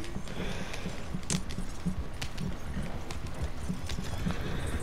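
Horse hooves clip-clop in Red Dead Redemption 2, a steady rhythmic trot that runs throughout at close range, with a faint jangle of tack.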